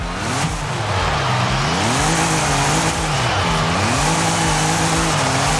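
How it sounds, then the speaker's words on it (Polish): A car spinning a donut in Forza Horizon 5, engine note swooping up and down in repeated waves while tires squeal continuously, loud and steady with no talk. "Ja zrobię tu bączka."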